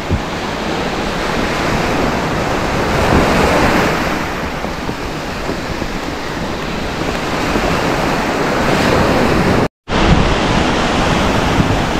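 Large ocean waves crash continuously onto a beach, a loud, steady roar of surf with wind buffeting the microphone and a brief cutout near the end.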